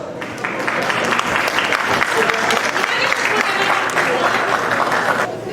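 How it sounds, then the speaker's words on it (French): A graduation ceremony audience applauds a graduate in sciences informatiques with steady, dense clapping that holds at full strength for about five seconds before easing off at the end. "Sous vos applaudissements, s'il vous plaît"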